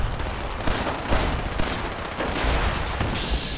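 Rapid gunfire crackles through a firefight in Fallout 4, dense overlapping shots and bursts in quick succession, loud and close with no pauses across the stretch.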